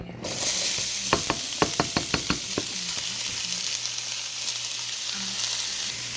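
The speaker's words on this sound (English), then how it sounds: "I took about two pork chops and I cut them up real small, and some onions, and we're gonna add this to your skillet." Chopped pork chops and onions hit a hot skillet and fry with a steady loud sizzle, with a quick run of clinks and taps at the start as the pieces go in.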